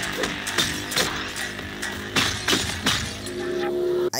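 Shattering-glass effect from the PC game Aztez, marking enemies ready to be sacrificed or killed, repeats in several sharp crashing bursts about half a second apart over busy game music and combat noise.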